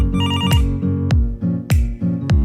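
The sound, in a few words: phone ringtone of an incoming call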